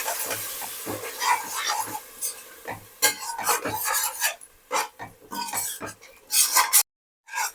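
A spoon or ladle stirs tomato puree into a pot of tomato coconut milk pulao, giving repeated scraping and rasping strokes with metallic clinks against the vessel, close and steady, then briefly dropping out near the end.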